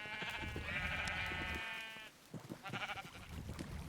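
Minecraft sheep bleating on a game farm: a long, wavering bleat in the first two seconds, then a second, shorter bleat after a brief lull, close and clear over low background game noise.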